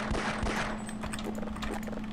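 Gunfire in the Half-Life video game, a short quick burst of sharp shots at the start followed by quieter clatter, brief and moderately loud.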